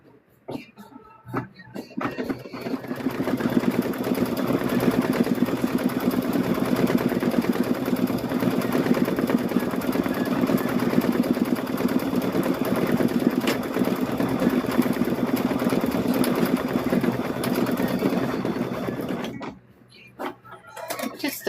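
An embroidery machine stitches through thick layers of rope, a steady mechanical whirring and rapid needle chatter running near and continuous for most of the stretch before stopping abruptly, with a few faint knocks at the start and end.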